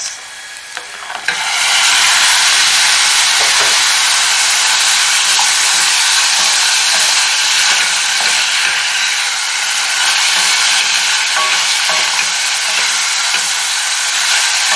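Beef hits onions frying in a pan and bursts into a loud, steady sizzle. The close, hissing roar holds throughout with faint stirring scrapes underneath.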